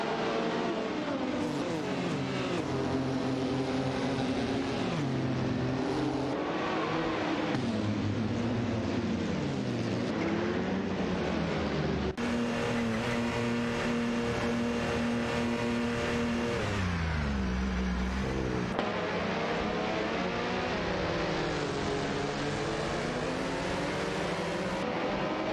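Race car engines scream and rev through an AI racing video game event as several cars approach a sharp turn, with loud continuous engine tones that rise, fall and shift between cars, and no talking.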